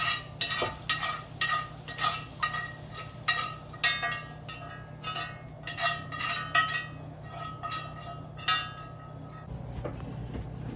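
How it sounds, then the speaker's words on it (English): Garlic and its cooking oil being stirred into rice, giving a steady series of soft scraping and clinking strokes against the pot, close and moderately loud, with a faint low hum underneath. "Give that a little stir here."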